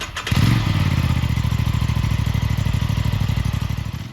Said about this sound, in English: A parallel twin-cylinder engine with a 270-degree crank. I'm sure it's going to sound good.